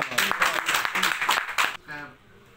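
A live audience at a poetry gathering claps warmly to welcome a poet, close and full-bodied applause that then fades out into a voice speaking at the end.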